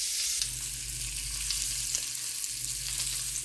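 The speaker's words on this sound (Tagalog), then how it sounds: "Ipiprito po natin yung daing ngayon." Dried fish (daing) frying in margarine, a steady bright sizzle with occasional light scrapes of a utensil over a low continuous hum, close and unbroken throughout.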